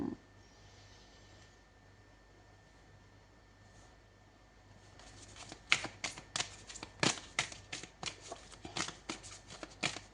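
Playing cards shuffled by hand in a quiet room: after several seconds of near silence, a run of crisp, papery riffling and flicking sounds begins and continues in uneven bursts, close and fairly soft.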